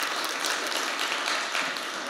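Audience applause fills a keynote hall, a steady broadband clatter of many hands clapping at once that holds evenly for about two seconds with no voices over it.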